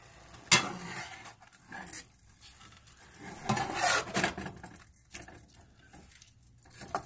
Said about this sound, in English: I'm going to stir the meat really quick.